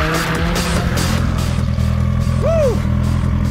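A car engine revs hard while tires squeal in a short rising and falling screech, loud and close, as a car drifts in the racing video game Ridge Racer Unbounded.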